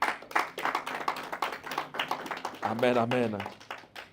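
A church congregation claps steadily and rhythmically in praise, with a loud voice speaking and chanting over the clapping.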